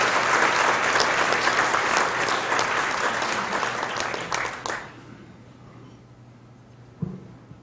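An auditorium crowd at a commemorative lecture bursts into loud applause that runs for nearly five seconds, then cuts off abruptly, leaving a quiet hall with a single faint thump near the end.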